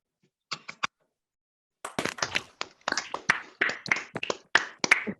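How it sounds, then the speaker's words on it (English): Scattered claps and taps, first a few isolated ones, then a longer stretch of uneven clapping from several sources, thin and slightly compressed. "unmute everybody and we can give Anne a round of applause"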